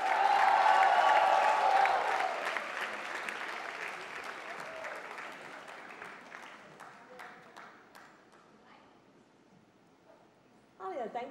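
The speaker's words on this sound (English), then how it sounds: "Ladies and gentlemen, please put your hands together to welcome on stage the one and only Alia Bhatt." An audience at the Outlook Business Women of Worth awards applauds as Alia Bhatt walks on stage, starting loud and full, then thinning into scattered claps that fade over several seconds before a brief new sound near the end.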